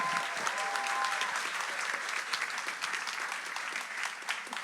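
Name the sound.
applause for a baptism candidate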